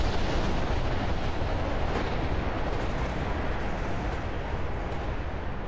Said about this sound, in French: les Américains lancent la bombe atomique sur Hiroshima